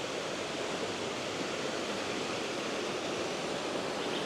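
Steady, broad roar of a waterfall in the highlands of Waimea Valley on Oahu, Hawaii, a continuous wash of falling water heard alone without talking.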